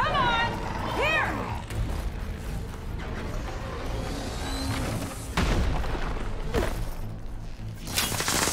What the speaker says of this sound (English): Hey, big explosion! Watch it!